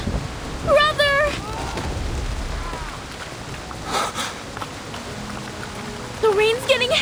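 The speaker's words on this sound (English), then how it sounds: "The rain's getting heavier!" Heavy rain pours steadily through a stormy scene in the video game Reverse: 1999, a dense wash of downpour running throughout beneath excited voices shouting over it.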